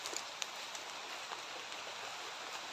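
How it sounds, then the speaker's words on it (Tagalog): Steady heavy rain hissing continuously, with scattered sharper drops pattering close by; no voices. "Malakas na yung ulan."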